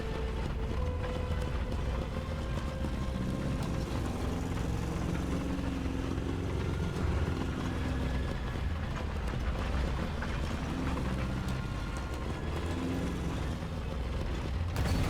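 Tank engines in the War Thunder video game hold a low, steady mechanical drone, a continuous rumble with faint shifting tones and no talking over it.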